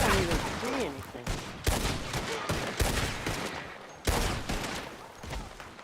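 Video game gunfire in rapid overlapping bursts and single sharp shots, loud and close, repeating through the clip with a voice talking briefly at the start.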